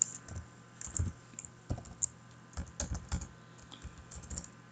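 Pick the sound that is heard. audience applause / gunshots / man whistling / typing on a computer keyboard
typing on a computer keyboard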